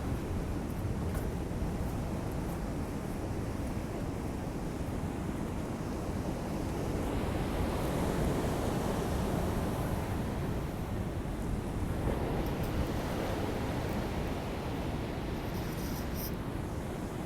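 Ocean waves break on the shore at low tide near Pacifica, a continuous wash of surf swelling and receding at moderate distance under light wind, with no voices.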